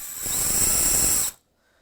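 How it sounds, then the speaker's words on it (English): Dewalt DCD995M2 cordless combi drill running steadily at close range for about a second, a high motor whine over buzzing rattle, then stopping abruptly. "As standard as you would expect on a drill of this class, we've got a intelligent trigger"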